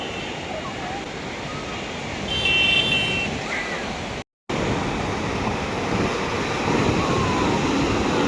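Sea surf rolls in a continuous roar, heard from a rooftop in Puri. Wind buffets the microphone, a faint voice passes briefly, and a short dropout cuts in partway through.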